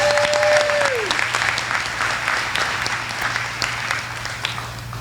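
A dinner audience claps for sheriff's office employees receiving 30-year service awards, the applause dense and even for several seconds, a low steady hum running beneath it.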